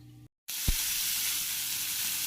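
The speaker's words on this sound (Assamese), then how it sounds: "মই মাছখিনি এনেকৈ ভাজি লৈছো।" Mowa fish frying in oil in a pan, with a loud steady sizzle that bursts in after a short silence and holds throughout, alone without speech.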